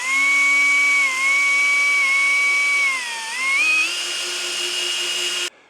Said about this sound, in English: So I'm gonna drill these 2 holes now, which is not ideal